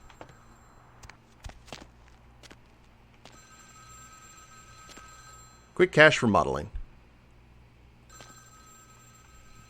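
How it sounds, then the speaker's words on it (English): A telephone rings indoors in the video game Vampire: The Masquerade - Bloodlines, a short burst of ringing over quiet game ambience, with a voice briefly speaking and scattered soft footsteps. "Phone's ringing."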